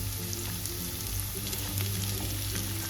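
Ginger, garlic, green chili, onion and peas frying in a pan make a steady dense sizzle with light crackle throughout, close and even, with a low background hum and no talking.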